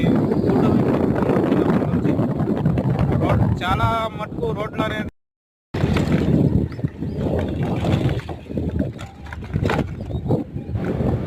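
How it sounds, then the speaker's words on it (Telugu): Strong wind buffets the microphone in loud, continuous low rumbling gusts beside a road under repair in Andhra Pradesh, with someone speaking over it and one brief dropout near the middle. "గాలి అనేది విపరీతంగా వీస్తుంది"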